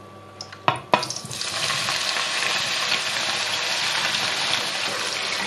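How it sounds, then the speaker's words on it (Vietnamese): Mushrooms drop into hot oil over high heat after a couple of sharp clatters, then settle into a steady, fairly loud sizzling crackle that carries on evenly to the end. "Anh chị em và các bạn chiên luôn trong dầu và chiên lửa lớn luôn"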